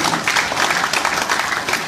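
A crowd applauds at an AfD political event in Köthen, a dense, close wash of clapping that runs without break for the whole moment, with no voices over it.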